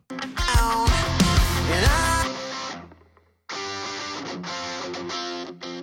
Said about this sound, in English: We have a guitar track on the left side that sounds like this.